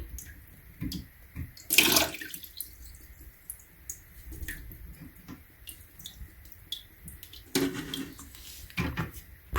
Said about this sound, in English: and the water is gonna drip